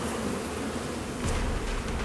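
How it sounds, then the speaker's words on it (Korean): Agitated honeybees buzz in a dense, continuous swarm while attacking at a beehive during honey harvesting, the drone steady and close throughout and swelling louder for the last second. "잔뜩 예민해진 꿀벌들이 맹렬하게 공격을 퍼붓습니다"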